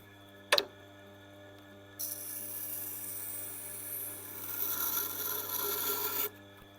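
A small Victorinox Swiss Army knife blade is ground on a Tormek sharpener, giving a steady, close grinding rasp that swells louder toward the end and stops abruptly, after a single sharp knock.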